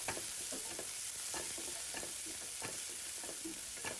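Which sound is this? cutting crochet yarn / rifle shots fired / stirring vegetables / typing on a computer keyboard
stirring vegetables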